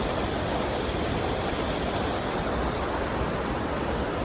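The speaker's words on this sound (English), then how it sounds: "as you can hear, the water behind me is flowing pretty good" Continuous rushing water of a river flowing under the Harpersfield Covered Bridge, a loud, steady broadband roar with no breaks or voices.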